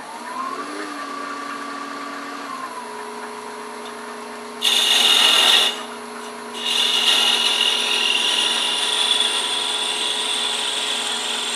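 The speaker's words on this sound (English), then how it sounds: "take some fine grit sandpaper, just kind of touch up the edges a little bit" Fine grit sandpaper touches up the edges of a small turned wood piece spinning on a lathe, a hissing rub that rises in two bursts over the steady motor hum.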